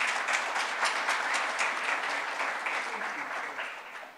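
An audience at a formal city council ceremony for Kaštela's town day gives sustained applause to welcome a parliamentary envoy, an even, dense clapping that stays loud and tapers slightly at the end.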